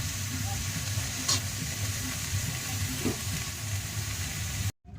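Vegetables sizzle in a hot pan for a shrimp pancit while a utensil stirs them. A dense, even frying hiss runs close and steady, with a few faint scrapes and knocks before it cuts off.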